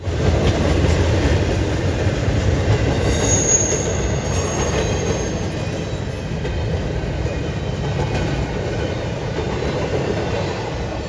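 A CSX freight train led by a Dash 9 locomotive rumbles past steadily and loudly, with wheel noise and a brief high squeal of metal.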